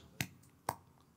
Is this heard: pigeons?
no